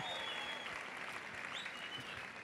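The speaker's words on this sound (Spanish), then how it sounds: "Aplaudan a Jesús una vez más." Church congregation applauding during a Spanish-language service, a steady continuous roar of many hands clapping at even level, heard a little distant and with a faint sustained tone running through it.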